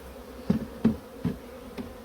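Honeybees buzz steadily around an open hive box during colony inspection, with a few louder, closer passes rising out of the hum at roughly even intervals.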